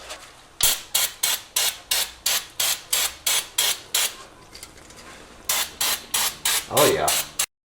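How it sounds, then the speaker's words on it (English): A can of brake parts cleaner sprays onto rear axle brake parts of a 98 Chevy K2500 with a GM 14 bolt axle, in a rapid series of short, even hissing bursts, close and fairly loud. "I have brake parts cleaner here. I'm going to spray this down"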